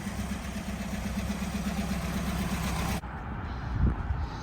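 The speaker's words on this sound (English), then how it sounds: "the engine's running because the motor's dead" A vehicle engine idles with a steady, low, throbbing rumble close by. The engine runs because the battery is dead. The hum holds evenly throughout, and its higher hiss drops away partway through.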